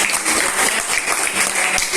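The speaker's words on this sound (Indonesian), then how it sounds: "kita tepuk tangan buat kelompok Abraham." A grade eight class claps for a student group, loud close-up applause from a roomful of students with uneven bursts of clapping that runs steadily to the end.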